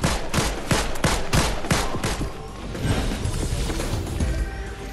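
Rapid pistol gunfire in an online shooter game, a quick burst of sharp close shots at the start that thins into scattered distant shots and game noise.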